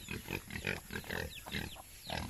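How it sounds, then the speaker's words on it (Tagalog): Pigs at their feeding area grunting and oinking in short repeated bursts, close and fairly quiet, with no talking. "ayan yung mga baboy so dito naman namin yan pinapakain sila"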